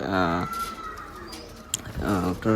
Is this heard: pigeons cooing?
yes